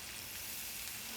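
Pastrami and cheese steam on a hot Blackstone griddle, giving a steady, bright, close sizzling hiss with no pauses for the whole brief moment.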